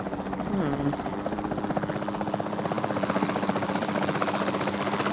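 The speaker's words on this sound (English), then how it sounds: "Then the sensible thing is to take a capture team helicopter." A capture team helicopter in the dinosaur game Jurassic World 2 flies with a loud, steady rotor chop and engine drone throughout, close and continuous, with a voice talking over it near the start.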